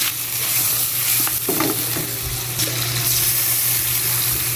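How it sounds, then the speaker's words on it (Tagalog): Ingredients for miswa with meatballs are sautéed in a pan, a loud close sizzle with stirring clatter and scraping throughout, no voices. "Gigisa to guys."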